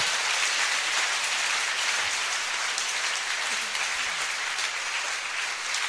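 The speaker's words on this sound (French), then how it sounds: "Let's first of all clap for the Lord." A church congregation claps together in worship, a dense sustained burst of applause from many hands filling the room steadily for several seconds.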